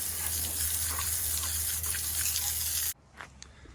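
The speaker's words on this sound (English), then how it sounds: "Now rinse again." Water spraying over a dirt bike during a rinse, a loud steady gushing hiss for about three seconds that cuts off abruptly, leaving faint drips and trickles.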